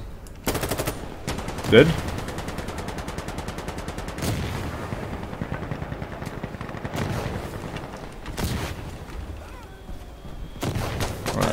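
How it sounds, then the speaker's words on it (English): Rapid burst-fire gunshots from a rifle in Insurgency Sandstorm, several sharp clustered volleys with distant gunfire in between, and someone briefly talking over the shooting. "We have burst fire as well."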